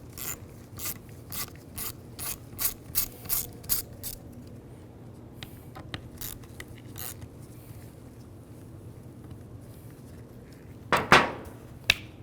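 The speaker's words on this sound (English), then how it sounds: "Use a T20 socket. Take these 2 screws out." A T20 socket ratchet clicks in short rhythmic bursts while backing out screws from the rear cover of a 2003-07 GMC Yukon steering wheel, faint and close, then quiets before a brief scraping rustle.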